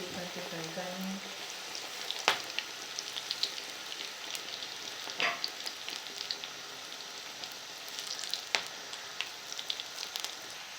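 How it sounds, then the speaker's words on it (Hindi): Large spinach-leaf pakoras fry one at a time in hot oil, giving a steady, close bubbling sizzle with scattered sharp pops and crackles throughout. "इसलिए मैं इनको एक एक करके फ्राई कर रही हूँ।"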